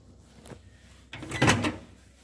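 A laboratory drying oven is opened to remove sterilised equipment: a faint thump, then a louder rattling clunk of the door and metal parts, close by in a quiet room.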